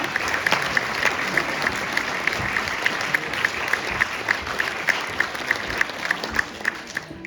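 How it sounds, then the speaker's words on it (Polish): Sustained audience applause at a volunteering gala, a dense steady clapping from a large crowd lasting several seconds, with a faint rhythmic accent running through it. "Wielkie brawa!"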